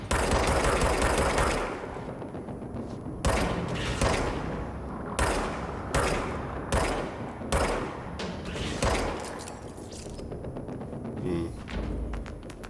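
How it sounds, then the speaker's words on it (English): Enemy gunfire in the game Control, a loud opening burst followed by a string of sharp shots and bursts at irregular intervals, with a voice talking between them. "there's one shooting at me right now"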